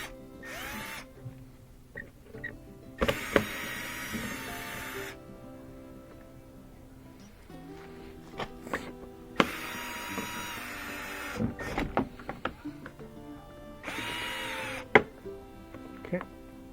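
Screws being removed from the old rear bumper of a third-generation Prius with a power driver, several short bursts of whirring separated by clicks, handling noises and quiet pauses.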